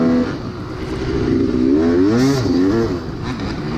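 A dirt bike engine with a badly slipping clutch revs out in rising and falling surges during a race at Locust Gap, loud and close, the pitch climbing and wavering with each throttle burst, no talking.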